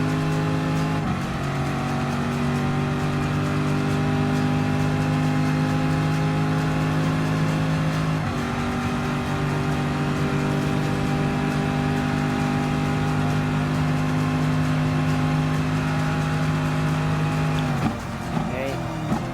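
Gr.3 race cars at Le Mans in Gran Turismo Sport drone loudly and steadily at high revs, with a brief shift in engine pitch partway through and other cars close by.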